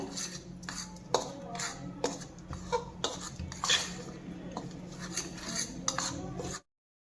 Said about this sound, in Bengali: এবার একটা চামচের সাহায্যে আমি খুব ভালো করে বেসনের সঙ্গে সমস্ত উপকরণগুলো মিশিয়ে নেব